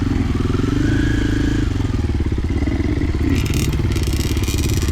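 Dirt bikes, a Honda CR85 and a CRF125F, on a trail ride produce a loud, steady two-stroke engine drone close by, with clattering and scraping over rough ground and a brief rise in revs.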